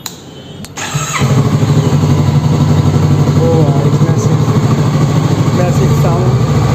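A Kawasaki Vulcan S 650cc motorcycle starts after a brief moment of quiet, then settles into a loud, close, steady idle rumble that holds to the end, with a short voice at the start.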